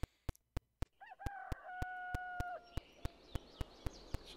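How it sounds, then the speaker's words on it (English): Birds in the video game Gobliiins: a rooster-like crowing call with long sustained tones rises over a regular series of sharp, evenly spaced clicks or taps that continue throughout. "Oh, we got some birds coming."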